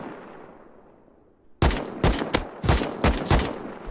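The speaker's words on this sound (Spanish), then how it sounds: "¿Son esos que te disparan de allá?" Enemy gunfire in the survival game Rust: after a quiet fading lull, a rapid string of loud, sharp shots bursts in, about seven reports in quick irregular succession, close and harsh.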